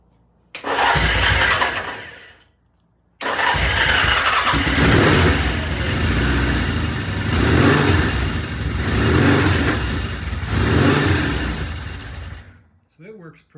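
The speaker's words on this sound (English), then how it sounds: "Let's see if it'll start." A 1975 Norton motorcycle engine cranks briefly, pauses, then starts and runs loud and close for about ten seconds with uneven revving before cutting off.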